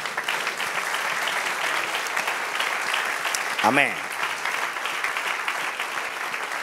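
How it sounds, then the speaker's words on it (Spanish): A church congregation applauds in a steady, loud, sustained round that fills the room, and a single voice rises briefly over the clapping midway. "Dale un aplauso al Señor."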